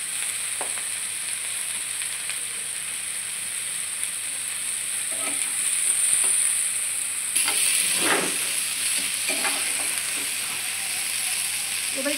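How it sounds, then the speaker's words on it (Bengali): Cauliflower and potato pieces frying in white oil with turmeric and salt, a steady close sizzle with a high hiss, broken by scraping stirring strokes and clatters from the pan. "এবার একটু নাড়াচাড়া করে এটাকে আমি লাল করে নেব।"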